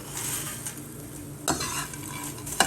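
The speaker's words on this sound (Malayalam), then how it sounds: "ഇനി നമ്മൾ വറുത്ത് വെച്ചേക്കുന്ന പപ്പടം നമുക്ക് ഇതിലേക്ക് ഇട്ട് കൊടുക്കാം" Fried pappadam being stirred into onion masala in a pan for pappadam mezhukkupuratti, with soft scraping and light sizzling punctuated by a few sharper clinks of the utensil against the pan.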